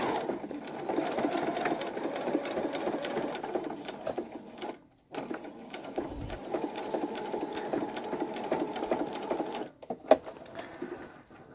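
A sewing machine runs steadily, stitching a dress seam with an automatic back stitch, its motor whirring close and continuous, pausing briefly twice before resuming.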